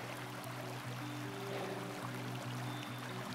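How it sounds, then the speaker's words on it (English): Steady broadband wash of a creek flowing somewhere below, with a faint low hum and light wind in the background on a snowy outing; no individual snow taps stand out, just a continuous soft rushing. "all I can hear is the creek below me down here and a little bit of snow hitting my coat and the slight wind"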